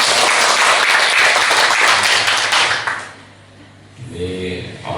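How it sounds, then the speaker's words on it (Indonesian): Applause fills a ceremony hall, dense clapping from a crowd that fades out after about three seconds, followed by someone speaking into a microphone. "tepuk tangan."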